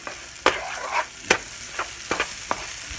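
Rice and shredded chicken fry in a pot with a steady sizzle while a utensil stirs and scrapes, giving several sharp, close clinks and scrapes at irregular intervals over the frying.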